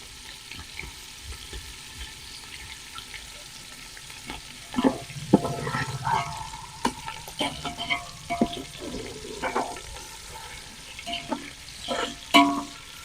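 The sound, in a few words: paneer pieces frying in a pan until golden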